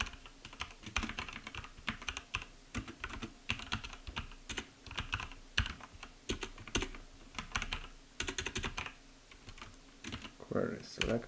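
Rapid typing on a computer keyboard, a dense run of crisp key clicks with brief pauses and a few heavier keystrokes near the end.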